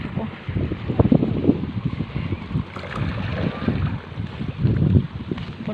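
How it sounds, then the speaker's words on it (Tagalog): Strong wind buffets the microphone on a boat out on open water, a rough, gusting rumble with swells and dips, loud and close throughout. "Ang hangin. Grabe po."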